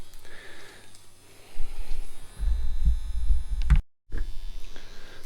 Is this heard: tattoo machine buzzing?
yes